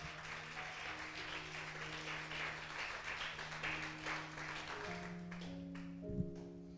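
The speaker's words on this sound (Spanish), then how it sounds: "Denle un fuerte aplauso al Señor." Church congregation applauding together, a steady broadband wash of clapping that holds for several seconds, with sustained organ or keyboard tones underneath and a few louder claps near the end.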